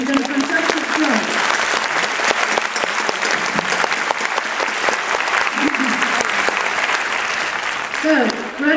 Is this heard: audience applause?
yes